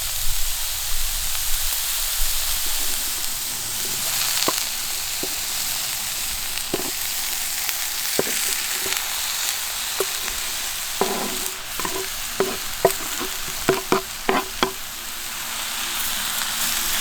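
Pork sears in a pan over a campfire, a steady hissing sizzle that runs throughout, with light scrapes and taps of cookware near the end.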